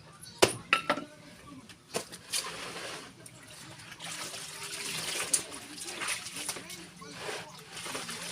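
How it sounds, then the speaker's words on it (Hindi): Tap water runs and splashes steadily during a wash of bedding, a continuous trickling and splattering with occasional louder sloshes, fairly close, while someone talks over it. "नल चलते में बिस्तर अच्छे से धुल जाता है, क्योंकि बिस्तर धोने के लिए बहुत पानी लगता है।"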